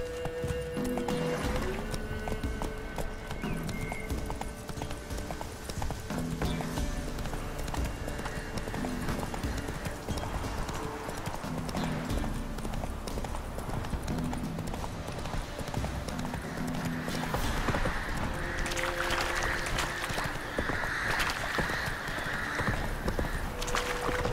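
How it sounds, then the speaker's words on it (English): Horse galloping in a video game, steady clip-clop hoofbeats running throughout with occasional neighs and whinnies, loud and continuous under layered game sounds and a voice speaking. "Run, Roach."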